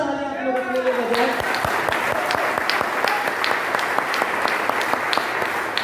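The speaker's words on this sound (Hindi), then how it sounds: "जोरदार ताली आप लोग अपने लिए बजाएं" A brief voice opens before an audience at a motivational seminar in Varanasi breaks into loud, sustained applause with sharp individual claps standing out throughout.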